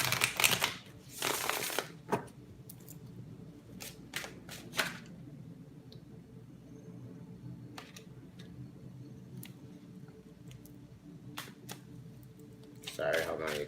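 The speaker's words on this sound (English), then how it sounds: "I'm going to leave those down there until I finish shuffling" Tarot cards being shuffled on a table, heard as quiet, irregular riffling and snapping bursts spread across the clip with soft background murmur.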